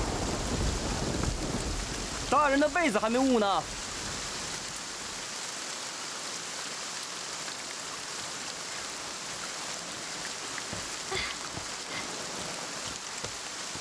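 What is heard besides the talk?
rain with thunder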